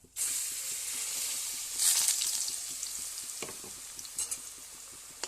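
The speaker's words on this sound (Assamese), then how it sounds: "লাহে লাহে ভাজি থাকিব লাগিব, ঝৰঝৰীয়া কৰি ভাজিব লাগিব।" Ground chickpea dal frying in a pan with hing and cumin: a steady, close sizzle with scraping stirs and small clicks over about five seconds, no voices.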